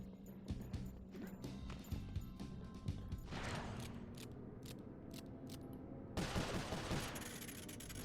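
Rapid gunfire bursts in Sly Cooper: Thieves in Time, quick repeated shots rattling in volleys with mechanical clicks, a denser louder burst near the end.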